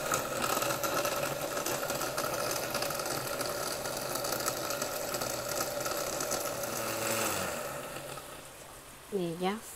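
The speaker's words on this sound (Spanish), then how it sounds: "los vamos a licuar." A blender purées chiles with garlic and water, a loud continuous whirring roar that holds for about seven seconds, then winds down and fades into a brief tonal squeak.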